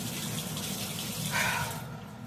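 A faulty Whirlpool top-load washing machine filling with water: a steady gushing, splashing flow like a running tap, fairly close and continuous, with a brief brighter surge near the end.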